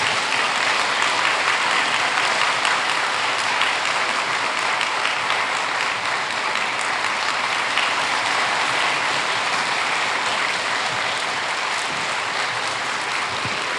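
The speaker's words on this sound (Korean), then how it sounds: "우리 김상현 목사님 나오실 때 큰 박수로 환영하겠습니다." A church congregation claps to welcome Pastor Kim Sang-hyun at a Sunday evening service, a broad, even wash of applause from a large crowd that holds steady and fairly loud for the whole stretch.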